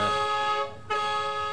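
A car horn blares in a sustained honk outdoors on a street, breaking off briefly before sounding again, loud and close.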